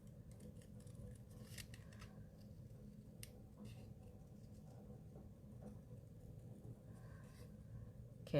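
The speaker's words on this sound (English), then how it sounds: "And let's cut out my taco." Scissors snip out a paper taco shape for a shadow box card, a faint sparse series of crisp cuts and rustles over a quiet room hum.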